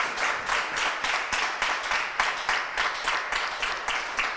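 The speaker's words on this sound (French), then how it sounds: "On l'applaudit quand même." A studio audience claps steadily for a contestant on a French television quiz show, a continuous, fairly even patter of many hands with no voices over it.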